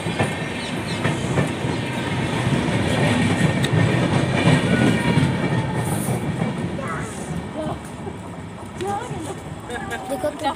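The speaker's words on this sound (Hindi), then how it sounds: "देखो कितनी अच्छी ट्रेन है।" A train running on rails between Amritsar and Phagwara, heard from on board as a steady, loud rumbling with rhythmic clickety-clack over the track joints, easing off slightly toward the end.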